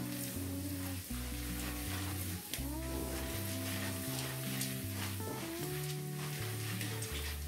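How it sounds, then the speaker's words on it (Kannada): Chana dal frying in hot oil with mustard seeds, cooked for mango chitranna: a steady, dense sizzle runs throughout with no pauses, accompanied by a layer of sustained tonal sound. "ಇದು ಎಣ್ಣೆಯಲ್ಲಿ ಕಡಲೆಬೇಳೆ ಒಂದು ಸ್ವಲ್ಪ ಹೊತ್ತು ಹುರ್ಕೋಬೇಕು"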